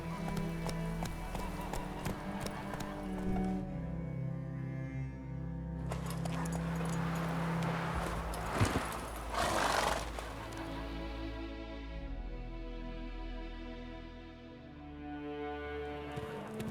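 Roach the horse gallops in The Witcher 3, rhythmic hoofbeats close and steady with a neigh, layered under game music and a brief spoken line.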